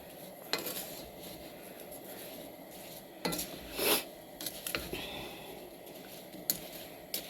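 Wooden spoon stirring pectin and sugar for strawberry jam in a pot, faint scraping with a few sharper knocks and clinks against the pot, close and quiet.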